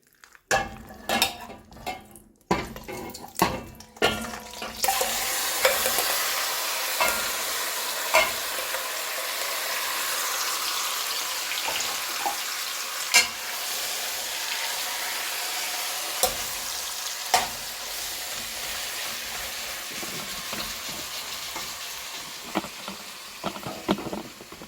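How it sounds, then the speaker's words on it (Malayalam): Marinated chicken fries in oil left from frying onions, opening with a few sharp clatters of a utensil on the pan and then a loud continuous sizzling hiss with occasional stirring scrapes, close up. "ഇനി നമുക്ക് ചിക്കൻ ഇതിലിട്ടിട്ട് നന്നായി മൊരിച്ചെടുക്കാം."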